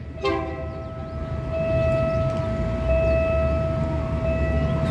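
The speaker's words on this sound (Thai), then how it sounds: "ตอนนี้รถไฟมาแล้วนะครับขบวน 4384 แม่กลอง บ้านแหลม" A diesel railcar train rumbles steadily past a level crossing in Samut Songkhram, Thailand, at close range, a sustained horn-like tone ringing over the low mechanical roar for several seconds.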